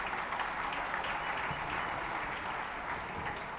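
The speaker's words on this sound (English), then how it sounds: "Please give him a big round of applause." Faint, steady applause from a crowd, continuous clapping throughout without any voices.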